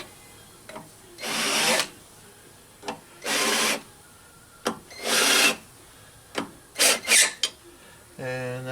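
A hand counterbore tool deburrs the tops of valve guides in a MOPAR 383 engine cylinder head, giving several close, rasping metal-scraping strokes about a second each, separated by short clicks and pauses, with a brief voiced sound at the end.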